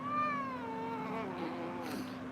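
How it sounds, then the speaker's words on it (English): A cat meows outdoors, one drawn-out falling meow that fades into a softer trailing call, faint and distant over a steady low hum. "There was a cat that's meowing outside."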